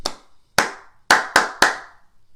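Five crisp hand claps close by and alone in a simple rhythm: one, a pause, one, then three quicker claps.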